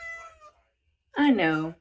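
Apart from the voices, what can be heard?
cat meowing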